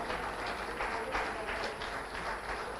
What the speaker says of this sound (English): extending applause to all the panelists as a token of honor